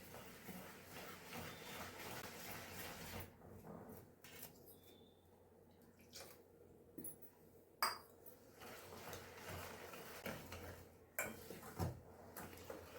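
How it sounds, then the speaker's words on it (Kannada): Milk stirred into a burfi mixture in a pan, giving soft scraping and clinking of a spoon against metal with a few sharper taps, quiet and close, with no talking. "ಇರೋ ಹಾಲನ್ನು ಫುಲ್ ಹಾಕಿ ಇದನ್ನು ಚೆನ್ನಾಗಿ ಮಿಕ್ಸ್ ಮಾಡ್ಕೊಳ್ಳೋಣ."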